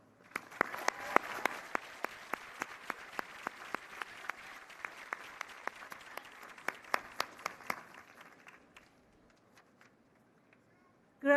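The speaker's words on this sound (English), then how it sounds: "join me in a round of applause to acknowledge the family and friends who have helped bring you to this moment in your life" Audience applause fills a university dentistry school commencement ceremony, a broad, sustained round of clapping punctuated by sharp, regular nearby claps before fading away, then a brief sound at the very end.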